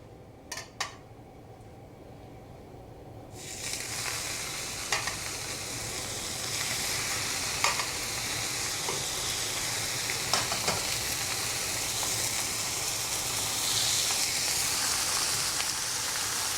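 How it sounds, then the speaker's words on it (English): Cheeseburger-stuffed hot dogs hit a hot griddle with a few clacks, then a loud, steady sizzle takes over and keeps hissing up close with occasional pops and scrapes. "I got a griddle all nice and hot for us to go ahead and grill up those delicious dogs"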